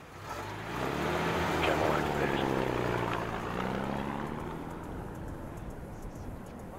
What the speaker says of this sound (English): Got visual on the airstrip. Looks like the plane's prepping for takeoff.